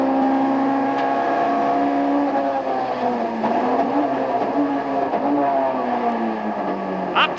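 Onboard roar of the Prodrive works car racing in the 1989 British Touring Car Championship, a loud, continuous engine note rising and falling through gear changes and corners.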